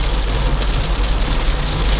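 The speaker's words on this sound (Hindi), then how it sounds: "8 दिन की शुरुआत हुई है इस बारिश के साथ।" Heavy rain falling steadily, a loud, dense wash of hiss with no breaks and a low rumble underneath, with no voices.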